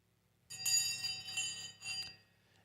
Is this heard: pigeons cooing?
no